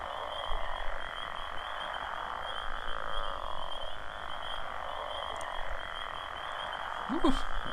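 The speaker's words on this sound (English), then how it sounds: "Loud and obnoxious frogs" Frogs in an EverQuest rainforest croak in a dense, continuous chorus, loud and steady, with a few brief sharper calls standing out near the end.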